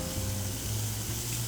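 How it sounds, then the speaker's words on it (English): Shallots sizzle and fry steadily in a hot pan, a close, continuous crackling hiss with no talk over it. "You saute the vegetables until they're tender."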